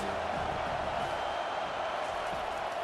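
Broad, steady crowd roar in a stadium backing the defense on a big third down in EA Sports College Football 25, Colorado against USC, with commentary talk running faintly beneath the noise.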